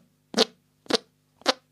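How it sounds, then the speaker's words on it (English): Armhole fart sound effect: three short, evenly spaced squelching puffs made by pressing a hand against the armpit, close and clear with silence between them. "Armhole fart."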